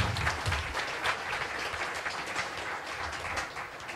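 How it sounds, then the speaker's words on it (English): An audience applauds at a talk on game theory, a dense burst of clapping that stays fairly loud and steady before easing off slightly toward the end. "Please take your seat and a big applause for you guys."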